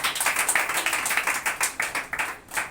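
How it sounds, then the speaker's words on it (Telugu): A church congregation at a Sunday worship service claps in unison, a steady rhythmic series of loud, close hand claps running throughout with no voices over them. "చప్పట్లు కొట్టు."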